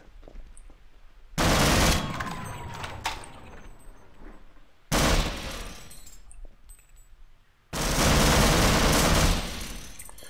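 Enemy gunfire in the Half-Life video game, three loud, sustained bursts of rapid shooting separated by quieter stretches, close and harsh with no talk over them.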